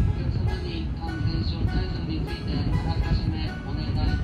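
A neighbouring train runs alongside a Sanyo Shinkansen bullet train between Hakata and Okayama, a steady rumble and rolling hiss with faint rhythmic clicks, continuous and close, heard from inside the carriage.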